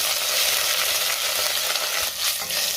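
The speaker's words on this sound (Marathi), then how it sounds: "त्यातच आपल्याला मिरची घालायची, कढीपत्त्याची पानं, कुटलेलं आलं लसूण आणि हे थोडं परतून घेऊया।" Green chillies, curry leaves and crushed ginger-garlic sauté in hot oil in a pan for dal khichadi, giving a steady, loud sizzle for a few seconds with a brief stir scrape near the end.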